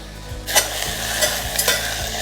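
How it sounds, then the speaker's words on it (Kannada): Fenugreek leaves sizzle steadily in hot oil in a pan, with a continuous frying hiss. Several sharp scraping stirs of a spatula break through it at intervals, close and fairly loud, with no voices. "ಈ ಮೆಂತ್ಯ ಸೊಪ್ಪನ್ನ ನಾವು ಹೀಗೆ ಎಣ್ಣೆಯಲ್ಲಿ ಹುರ್ಕೊಂಡ್ಮೇಲೆ"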